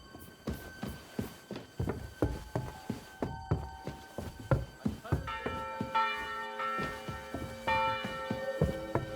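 A church bell rings in the video game Kingdom Come, with repeated dull clanging strikes at a steady pace, turning to sustained overlapping tones in the second half.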